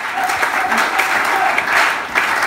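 A church congregation applauds in a dense, steady wash of clapping that carries through the whole stretch without a break, with no voices rising above it.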